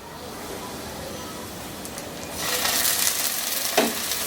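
Steady sizzling of ginger garlic paste in a hot pan, growing louder and brighter midway, with a brief stir or scrape near the end.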